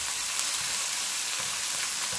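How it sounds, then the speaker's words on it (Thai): Fresh shrimp fry in a pan, left unstirred, giving a loud, even sizzle that holds steady throughout, with faint low bumps beneath. "พอใส่กุ้งแล้วอย่าเพิ่งไปคนเขานะคะให้กุ้งพอสุกก่อนนะคะ"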